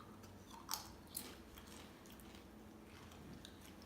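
Soft, close chewing while guacamole is taste tested, with a couple of small wet bites early on over a quiet background hiss and no talking.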